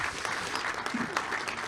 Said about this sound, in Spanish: un aplauso final también para Viviana y Rodrigo por su presentación